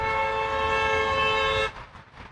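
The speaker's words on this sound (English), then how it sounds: "Here's this lady honking at somebody." A car horn on Lorain Avenue, Route 10, in Cleveland blares in one long steady honk lasting well over a second. It sounds close and loud above the street noise, then cuts off, and the traffic hum carries on.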